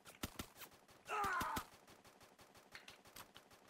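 Rapid automatic gunfire in the SIGMAX survival shooter video game, sharp repeated cracks in quick rhythm with a louder burst in the middle, moderately close and without talk.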